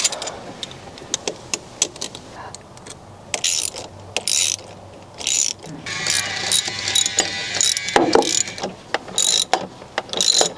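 Hand ratchet tightening intercooler pipe clamps on a 6.0L Powerstroke diesel, rapid close-up pawl clicking in repeated bursts with short pauses, some metallic handling and rustling between strokes.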